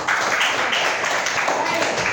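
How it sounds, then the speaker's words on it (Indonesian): Indonesian classroom students clap their hands together in a dense, steady burst of applause, with voices talking among the claps. "Tepuk tangan untuk si Tarif."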